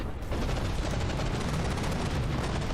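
Cram cannons firing in the From the Depths video game, a dense, loud, continuous barrage of booming blasts that merges into a steady rumbling roar with no voices.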